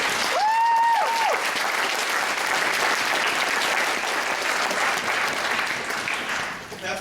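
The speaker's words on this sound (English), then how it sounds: "give that a round of applause" Graduation audience breaks into sustained applause, a dense wash of many hands clapping that holds steady for several seconds, with a brief voice heard near the start before fading slightly at the end.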